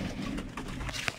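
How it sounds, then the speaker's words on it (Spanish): A turtle dove, a hybrid of a white and a grey dove, gives a short, soft coo against a noisy background. "Yo fusioné una tórtola blanca con una gris."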